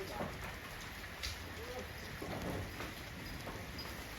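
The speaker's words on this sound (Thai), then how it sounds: "จะออกมาเล่นน้ำฝนแล้ว น้องปู" Steady rain patters and hisses on surfaces nearby where an elephant plays, with faint distant voices and a soft rumble underneath.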